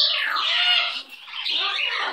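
A pet baby bird squawks loudly and continuously at close range, one harsh, raspy call broken by a short pause before it resumes.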